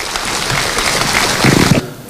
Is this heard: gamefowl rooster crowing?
no